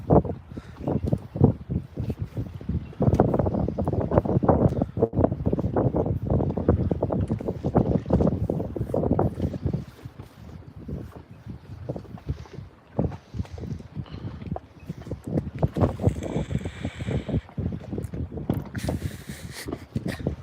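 Gusty wind buffets the microphone on a lake shore beside a small dinghy, with rough low rumbles and intermittent water and handling noises, no talk heard.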